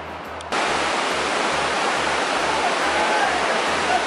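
A large waterfall near the Sea to Sky Gondola in snowy mountain country roars as a loud, constant broadband rush that cuts in sharply after a brief quieter moment and then holds steady with no break.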